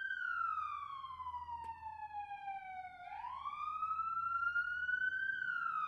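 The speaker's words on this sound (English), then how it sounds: "It's the police outside." Out in the street, a police siren wails, falling, then sharply rising again in a smooth up-and-down cycle. It is loud and continuous, with faint low rumbling beneath and no speech.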